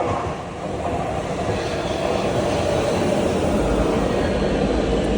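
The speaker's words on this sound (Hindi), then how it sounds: "ये देखें, ट्रेन आ रही है।" A train pulls into a station, its loud, steady rumble and rolling roar holding close and constant throughout.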